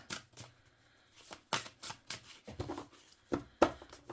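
Oracle cards being shuffled close up in a quiet room, a series of short riffling bursts separated by brief pauses, soft and intimate.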